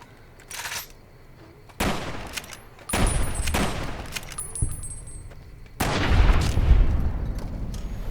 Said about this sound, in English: that was some really good shooting, if I do say so myself